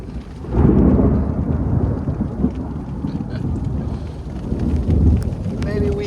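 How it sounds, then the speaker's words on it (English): A thunderstorm passes over the Continental Divide Trail near Anaconda, Montana. Loud, close thunder rumbles at the start, fades, then swells again near the end over continuous rain, with some wind buffeting the microphone. "Got a decent little thunderstorm coming through"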